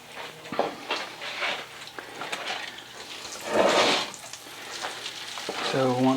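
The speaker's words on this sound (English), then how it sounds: "Sizzling." Steady sizzling and crackling of food frying in a pan, fairly close, with a few stirring scrapes and a brief clatter near the end.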